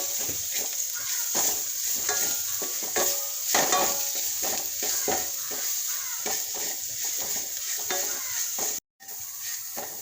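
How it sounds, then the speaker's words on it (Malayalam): Spice powder fries in a pan for pickle, a steady crackling sizzle broken by repeated scraping strokes of a stirring spoon, close and continuous, with a brief dropout near the end. "ഈ പൊടി നല്ലോണം ഒന്ന് മൂത്ത് വരുവോളം നമുക്കിതൊന്ന് ഇളക്കി യോജിപ്പിച്ചെടുക്കാം."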